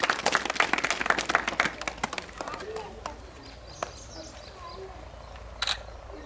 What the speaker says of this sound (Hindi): सभी लोग एक बार जोरदार तालियां बजा दें सरपंच साहब के लिए